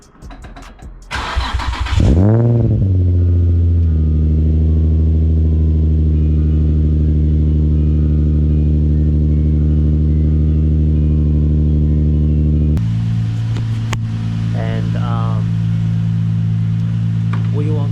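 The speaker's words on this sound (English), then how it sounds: "you're ready to start the car up" A Nissan G35 or 350Z engine cranks and catches after a thermostat install, then settles into a loud, steady idle that runs on, with a voice briefly talking over it near the end.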